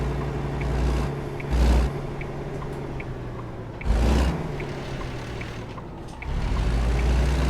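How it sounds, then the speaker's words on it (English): Loud, steady diesel rumble of an International S-4700 daycab truck engine idling nearby, a deep continuous drone with a few brief surges and clunks, no talking. "This engine's loud."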